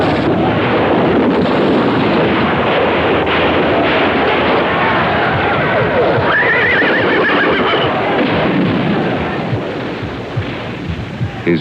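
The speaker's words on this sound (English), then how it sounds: "riding a horse" A horse neighs loudly and close while its hooves clip-clop steadily, with strong wind buffeting the microphone over the whole stretch.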